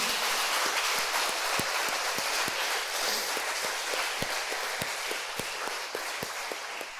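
Worshippers at an evening church service applaud during the sermon, a steady wash of many hands clapping that holds at an even level for several seconds, with individual claps standing out now and then.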